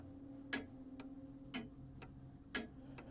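A clock ticks in the video game Syberia 2: crisp, evenly spaced ticks about once a second, alternating stronger and softer strokes over a low steady hum.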